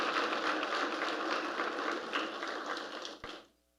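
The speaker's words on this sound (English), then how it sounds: "I think she deserves another round of applause" Audience applause at a panel discussion event, a dense, steady clatter of many hands clapping that carries on for about three seconds, then abruptly tapers and stops into near silence.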